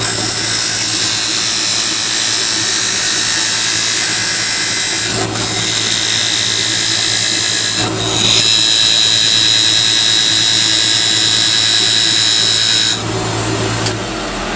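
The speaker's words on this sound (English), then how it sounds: "Next up, smaller skew chisel, because I have an inward angle on this." Wood lathe spinning steadily while a small skew chisel shapes a chess king piece, a loud continuous whine and hum with brief dips where the tool lifts off, no talk.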